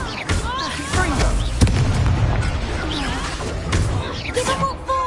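Repeated Confringo spell blasts in a Harry Potter video game, booming bursts and pops spread through a busy combat mix with a voice shouting over the action.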